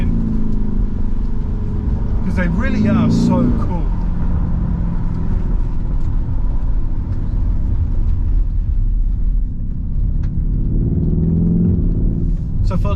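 A 2021 Lamborghini Urus engine rumbles loudly up close, surging as the SUV accelerates in a rising rev burst, then settling into steady cruising with another climb near the end, while a voice talks over it.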